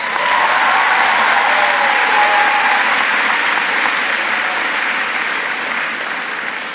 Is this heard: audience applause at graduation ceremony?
yes